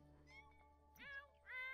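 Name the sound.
upset kittens meowing in The Sims 4 video game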